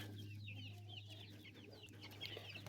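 Several farm chickens in winter cluck and chatter softly nearby over a low steady hum, their calls scattered and overlapping.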